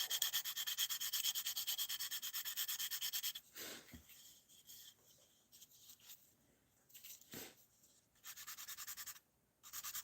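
Hand sanding rasps back and forth in steady strokes, a dry, gritty rubbing that pauses briefly a few times before resuming.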